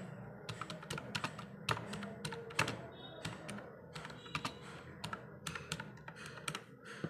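Keys on a computer keyboard clatter in irregular bursts of close, crisp taps as code is typed, with a few louder keystrokes standing out against a low background hum.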